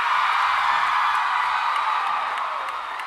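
A large Comic-Con audience at a Once Upon A Time panel applauds and cheers, a loud, steady wash of clapping and whoops that fades slightly toward the end.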